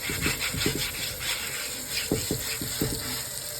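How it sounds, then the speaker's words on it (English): Cast iron skillet being rinsed and scrubbed, with repeated short scraping strokes in bursts over running water, close and moderately loud. "I rinse it, see if I missed a spot."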